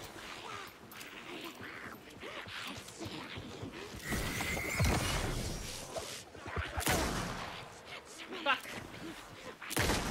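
Gunfire from Alan Wake II, with several sharp shots scattered through an ongoing fight, mixed with game ambience and a player talking over the action.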